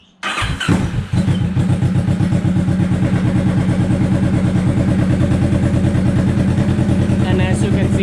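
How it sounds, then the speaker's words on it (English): A Kawasaki Vulcan 650 motorcycle from 2015–2016, in for an oil and coolant change, cranks briefly, fires up and settles into a loud, steady, rapid-pulsing idle close by for several seconds. "And let's go ahead and start up this bike."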